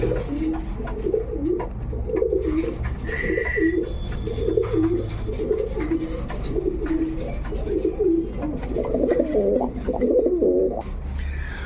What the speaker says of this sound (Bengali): সর্বশেষ এক পেয়ার কবুতর আছে আমার